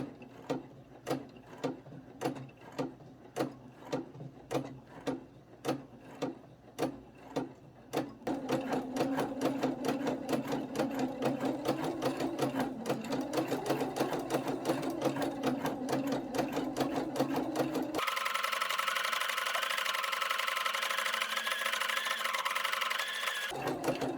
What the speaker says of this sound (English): I'm just going slowly while I stitch the sequins in.